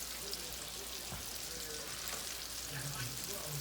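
Tilapia fish fries in hot oil with a faint, steady sizzle and scattered crackles, quiet and close.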